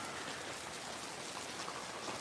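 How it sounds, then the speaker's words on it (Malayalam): Summer rain falls steadily in a dense, even patter of drops striking surfaces. The hiss is soft and continuous, with no voices over it. "ഈ കാലഘട്ടത്തിലെ ഇപ്പോഴും മഴ"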